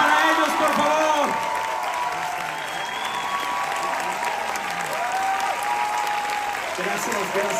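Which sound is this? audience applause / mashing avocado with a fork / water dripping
audience applause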